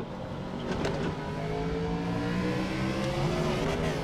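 A race car laps the new Daytona NASCAR road course, its engine a steady, fairly distant drone that rises and falls through braking and acceleration, with no one speaking.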